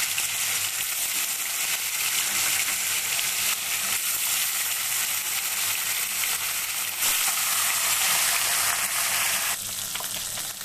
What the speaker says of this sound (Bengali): এবার আমি একটা একটা করে মাছ এখানে দিয়ে এগুলো ভাজবো